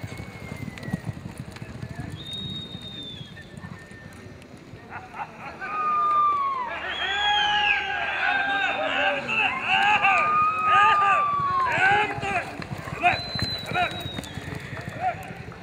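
Hooves of horses at a horse competition in Chapecó, including a black zaino horse, clopping steadily throughout beneath an announcer's voice, with crowd noise and some whistling tones in the background.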